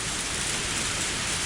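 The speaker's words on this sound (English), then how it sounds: "The rain was still pretty intense." Heavy rain from the visual novel Higurashi When They Cry Hou, a dense steady downpour hissing evenly, close and unbroken.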